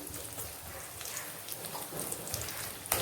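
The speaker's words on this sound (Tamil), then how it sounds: "எண்ணெய் ஊற்றி பட்டை, கிராம்பு, ஏலக்காய், சோம்பு, சின்ன ஜீரகம் எல்லாம் போட்டு தாளிச்சுக்கிறணும்" Cinnamon, cloves, cardamom, fennel and cumin crackle in hot oil for a Tamil quail masala, a dense, even spitting hiss running close and steady throughout.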